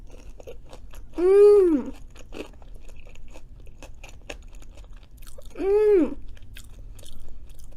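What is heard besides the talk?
chewing and crunching cajun fries dipped in mayo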